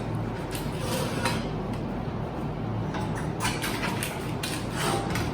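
Hot potatoes mashed for puree in a pot, with repeated metallic clinks and scraping of the masher against the pan over a steady background hum, close and rhythmic.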